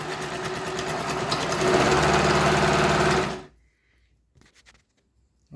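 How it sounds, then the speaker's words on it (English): A Pfaff 204 model 24 sewing machine stitches in a steady, loud mechanical whir for about three seconds, then stops abruptly, leaving near silence with a few faint clicks. "this was Pfaff 204 model 24. Good machine, simple machine, good sewing machine."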